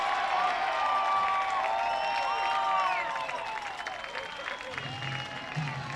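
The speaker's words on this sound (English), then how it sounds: "Big applause from everyone in their seats tonight" A baseball crowd in a ballpark grandstand applauding at a night game, steady clapping and cheering from many people that fades slightly while a commentator talks over it.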